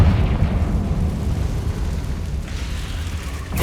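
A Confringo spell cast in the Hogwarts Legacy video game bursts into a loud, rumbling fiery explosion that roars densely for a few seconds and then cuts off abruptly.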